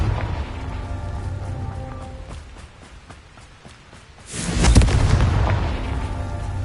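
A Confringo blasting spell in Hogwarts Legacy goes off as a heavy booming explosion with a rumbling burst that swells and lingers, following a stretch of busy game background with scattered clicks and hits.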